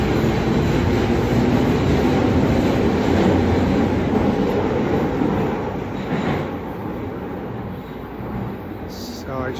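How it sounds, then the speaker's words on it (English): A Tokyo Oedo line subway train rumbles loudly in a steady, dense roar that eases slightly as it pulls away, with a faint high squeal near the end. "Just getting off of my subway line, the Oedo line."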